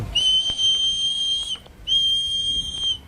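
Two long, shrill whistle blasts during a street confrontation, each about a second and a half with a brief gap between, loud and piercing over faint background noise.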